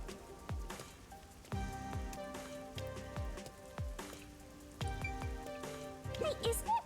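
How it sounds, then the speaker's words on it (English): Steady rain patters across a city street in a video game, a continuous wet hiss running through the whole stretch, with distinct tonal chimes and struck sounds layered over it. "isn't it weird how it's not flooded, given how it's always raining here?"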